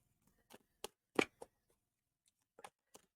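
Playing cards handled and shuffled during a quick-fire question show, heard as a few sparse, brisk riffling snaps and taps spread across a quiet moment with no talking.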